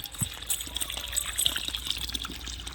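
Water pours and gushes steadily into a hole in the ground, splashing and trickling close by for a few seconds.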